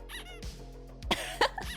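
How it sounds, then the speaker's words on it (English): A squeaky dog toy gives a few short, high squeaks near a plastic pool, spaced irregularly over the brief moment, with low background rumble. "Oh wait, that's just the squeaky dog."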